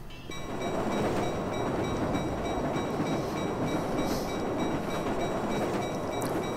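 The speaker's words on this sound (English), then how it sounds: "Train car." A train car rolls past in the video game Marc Ecko's Getting Up, a steady dense rumble and rattle of wheels on rails holding at a constant level with a faint tonal whine above it.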